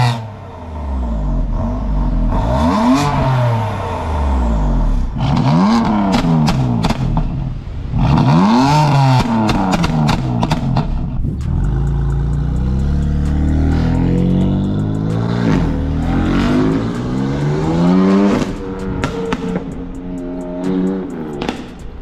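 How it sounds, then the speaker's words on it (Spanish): A parked BMW M4 with about 600 hp blips its aftermarket exhaust in a series of loud, sharp revs that rise and fall, with crackling pops between throttle stabs and a deep idle rumble throughout. "Le vamos a dar un par de acelerones para que vean más o menos cómo va la cosa. Yo quiero que ustedes escuchen esa moflería."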